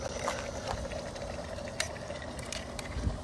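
A burst tomato and goat cheese dip bubbles softly while cooking at a campsite, with faint pops and a steady simmering hiss throughout.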